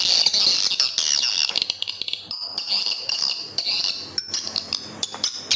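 Dense, high-pitched chirping and twittering of swiftlet calls plays continuously through a swiftlet-house amplifier speaker, with rapid clicks and ticks woven throughout.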